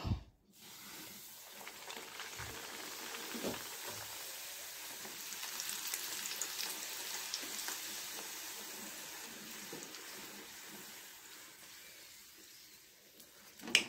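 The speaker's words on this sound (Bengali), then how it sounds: "এইটুকু তেল গরম হয়ে গেছে, চলো ছ্যাকছুক করে দিয়ে দেখি কি হয়" Kachori stuffed with roasted chickpea flour sizzling in a small amount of hot oil, a steady close hiss and crackle that swells and fades, with faint handling noises and no speech.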